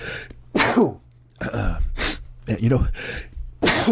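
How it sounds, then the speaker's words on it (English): A single loud sneeze up close, followed by breathy sniffs and a few short vocal sounds. "I'm gonna sneeze."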